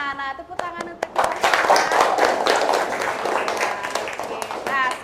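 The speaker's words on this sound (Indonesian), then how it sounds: "Tepuk tangan untuk kita." A crowd of elementary school children clapping and cheering together, a dense, lively burst of applause with voices mixed in throughout.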